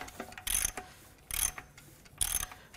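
A Dodge Caravan 3.6L Pentastar V6 with its cylinder heads removed is turned over by hand, giving three short mechanical ratcheting bursts separated by pauses, close and fairly quiet.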